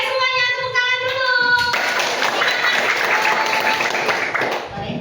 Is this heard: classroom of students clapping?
yes